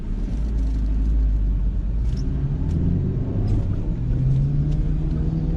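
A Renault Clio drives along, its engine and road rumble a steady low drone heard from inside the cabin, with no talk.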